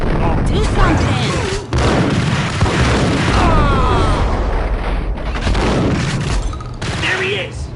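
Gunfire bursts and booming shots from the Max Payne video game, loud and dense across the whole scene, layered with voices talking and shouting under the chaotic shooting.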